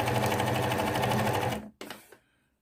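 Sewing machine running a straight line of rib topstitching on a simple machine cover, a steady close rattling whir for about a second and a half, then a brief stop and a short final burst before silence.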